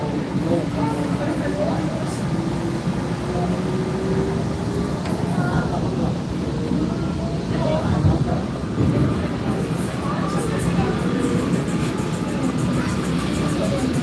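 Hudson-Bergen Light Rail train rolls along the tracks, a steady low rumble with squeals and faint clanks from the wheels, heard from on board under occasional talk.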